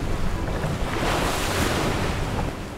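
Steady broadband wash of sea waves and wind buffeting a sailing ship at sea in the early morning after a rough night, continuous and fairly loud with no voices.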